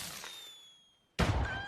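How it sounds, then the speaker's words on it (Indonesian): Firecracker set off by Sing in Kung Fu Hustle: after a fading hiss, one sudden loud burst cracks out and rings on with a noisy tail, no talk. "Kemudian Sing membakar petasan seolah-olah ia akan memanggil geng kapak."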